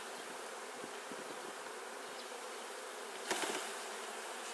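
Dense, steady buzzing of many honeybees close by in an opened hive in early April after cold weather, a continuous hum with a brief louder swell near the end.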